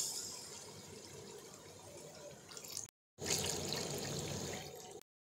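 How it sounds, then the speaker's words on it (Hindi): Water poured into a pot of cowpeas cooking with rice: a steady, faint, close pouring stream, briefly broken by a short silence and then resuming. "इसमें 3 गिलास पानी ऐड करूँगा।"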